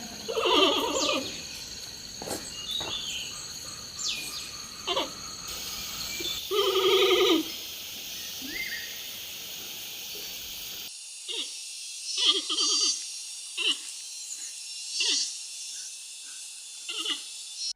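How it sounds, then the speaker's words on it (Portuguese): A giant panda gives a bleating, babbling greeting call, a string of short nasal bleats in bursts, somewhat goat- or lamb-like, heard fairly close in several separate recordings with hiss in the background. "O mais comum deles é um som balbuciante, como esse que vocês podem ouvir nesse vídeo."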